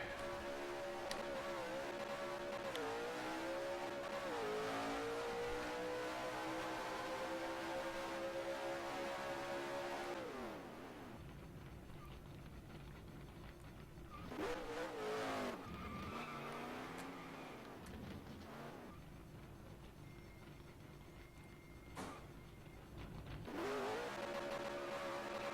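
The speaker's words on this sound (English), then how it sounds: "Yeah, we have the burnout." Race car burnout in a stock-car racing video game with a Ford Fusion: a loud, continuous engine roar with screeching tire squeal that fades midway, then picks up again near the end.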